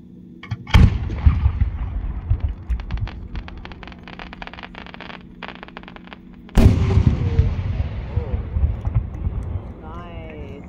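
An 8-inch ball shell firework bursts overhead with a sharp boom, followed by crackling, then a second heavy blast with rumbling echoes, crackle and a crowd cheering and talking.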